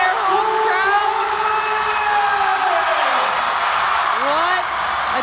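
A home crowd cheers at the Beijing men's 5000m speed skating relay final, a broad roar with whoops rising underneath a commentator's voice that stays prominent throughout.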